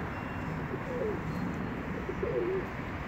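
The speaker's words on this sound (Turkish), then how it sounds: "6 tane kuş uçuyor" A few pigeons flying and cooing outdoors, with two soft low coos standing out over a steady background hiss.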